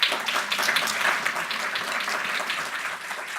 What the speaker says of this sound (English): I'm presuming this applause is for them